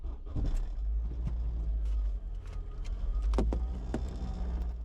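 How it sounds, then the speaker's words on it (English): A car engine cranks and idles unevenly at an abandoned property in Ashland, Wisconsin, a steady low rumble with rough surges and a few sharp clunks, loud and close, with no talk. "Car starts so weird every time."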